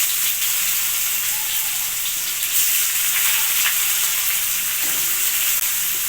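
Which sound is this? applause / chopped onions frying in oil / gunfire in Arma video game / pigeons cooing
chopped onions frying in oil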